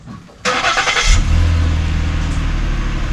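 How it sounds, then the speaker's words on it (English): A Ford Taurus SEL's 3.5-liter naturally aspirated Duratec V6 on its stock exhaust cranks briefly, then catches in a cold start and settles into a steady, moderately loud low idle rumble with no voices. "here's a cold startup on the stock exhaust system on the Ford Taurus SEL"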